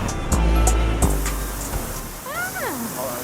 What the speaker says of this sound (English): You see that there is a waterfall there and there is a bridge over the waterfall.